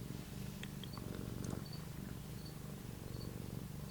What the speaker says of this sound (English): It helps that the cat is purring so loudly right now